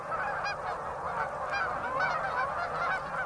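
Waterfowl, goose-like, honk repeatedly on a small wild rice pond just after the winter ice has melted, a busy overlapping flock calling steadily at moderate distance.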